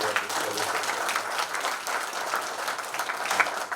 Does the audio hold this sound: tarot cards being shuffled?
no